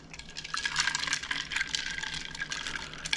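Water swirling in a kettle or vessel while making iced pour-over coffee, a bright, close, continuous sloshing and trickling that rises and falls gently with no voices.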